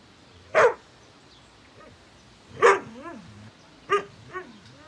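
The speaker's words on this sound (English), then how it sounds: "Is that your dog?" A dog barks three times with spaced, sharp yelps and a short whimper after the last, fairly close and loud against a quiet background.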